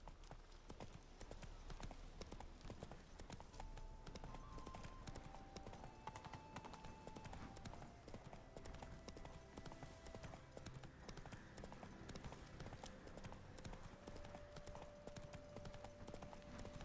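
Roach the horse trots in The Witcher 3: Wild Hunt, a quiet, steady clip-clop of hooves continuing throughout with faint game music in the background.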